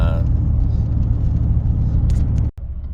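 Car engine running while driving on a highway, a loud, steady low rumble with road noise that cuts out abruptly near the end, close and continuous.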